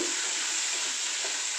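Curry leaves hitting hot oil give a steady, close, broadband sizzle that holds unbroken for the whole moment, with faint stirring beneath and no voices.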